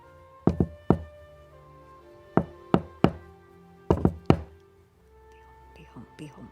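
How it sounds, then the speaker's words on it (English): Knuckles rap on a door in short bunched groups of two or three sharp, close, wooden knocks, separated by brief pauses, with faint speech murmuring near the end. "I gently rap on the door"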